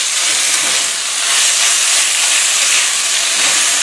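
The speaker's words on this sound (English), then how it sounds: "So let's go ahead and fry this, and then I'll add the beef." Ginger fries in a hot pan as a dense, loud, continuous hiss that swells slightly midway and holds steady throughout, with no voices over it.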